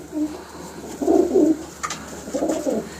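Pigeons coo nearby in soft, throaty bursts, three low rolling calls spaced a moment apart, with a faint click between them.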